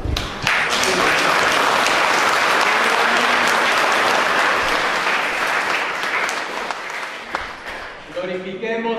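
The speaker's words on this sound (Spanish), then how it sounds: "les damos un aplauso a los esposos" A crowd applauds newlyweds at a beach wedding service in Guerrero during a New Year's celebration, with sustained, dense clapping for about eight seconds before a voice begins speaking as it dies down.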